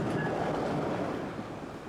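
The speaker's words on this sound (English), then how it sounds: "Train." A train rolls past with a steady, broad rumbling roar that holds for about two seconds and eases slightly toward the end, with no voices over it.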